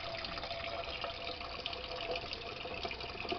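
Cold water runs from a tap over boiled eggs, a steady close splashing and gurgling stream with no talk over it.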